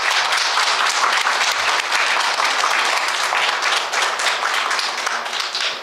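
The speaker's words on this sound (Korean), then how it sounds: "오늘 특강을 위해 자리해 주신 최성만 교수님을 큰 박수로 맞이하여 주시기 바랍니다." A lecture hall audience at a lifelong-learning special lecture gives a professor a big welcoming round of applause, thick and sustained clapping from many hands at a loud, even level that eases slightly just at the end.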